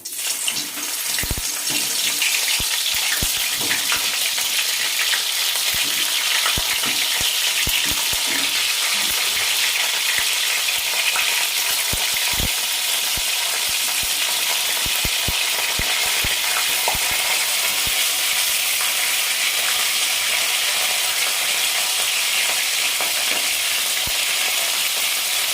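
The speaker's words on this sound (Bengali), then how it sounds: "ফুলকপিগুলো একটু ভেজে নিচ্ছি, কারণ আমি চিলি মাশরুমের মধ্যে ফুলকপি দেব" Cauliflower florets fry in hot oil in a pan, giving a loud, steady, close sizzle with continuous crackling hiss and occasional sharper pops and stirring scrapes throughout.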